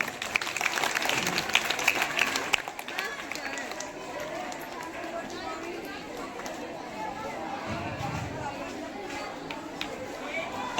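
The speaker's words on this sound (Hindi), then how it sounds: "ताली बजनी चाहिए।" An audience claps at a school farewell ceremony in Begusarai, with applause strongest at the start and fading into a steady murmur of chatter and movement.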